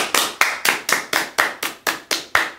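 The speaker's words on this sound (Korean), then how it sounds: "박수" About ten sharp, evenly spaced hand claps from a small group on a golf course, celebrating a putt that drops into the hole; the claps are loud and close, with no talking over them.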